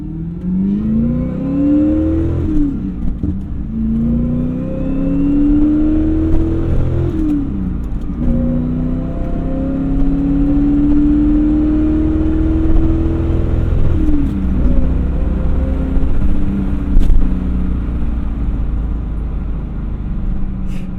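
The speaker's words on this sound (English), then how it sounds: "I heard a burble out the rear, if that was just the rumbliness of the V8" Manual C4 Corvette V8 engine heard from inside while accelerating, repeated rising revs through several gear changes with brief dips between shifts, a steady loud mid-pitched drone with a low burble underneath.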